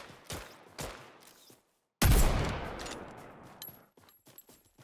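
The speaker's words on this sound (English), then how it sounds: "Who's shooting?" Gunfire in the shooter game Apex Legends arrives as distant scattered shots, then a loud close burst with a decaying tail, followed by lighter rapid pops and a faint high electronic tone.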